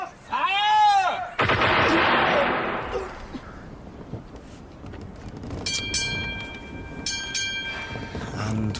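Cannon fire booms in a staged naval battle scene, a loud blast with a long rumbling decay after a shouted order, followed by scattered battle noise and ringing tones.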